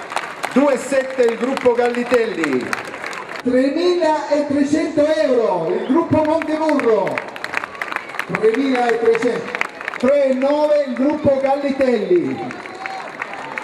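Bursts of crowd applause at a San Rocco festival float auction in 2011, rising and falling under an auctioneer's loud, continuous calling of bids over a public address system, with clapping and crowd noise throughout.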